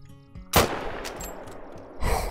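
A Mosin rifle firing in the hunting game Call of the Wild on Hirschfelden, a single loud sharp crack followed by a long rolling echo that fades, then another burst of noise at the end.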